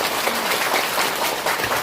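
An audience at a Buddha's Birthday dharma talk at a temple claps in a thick, steady burst of applause, close and fairly loud with no talk over it.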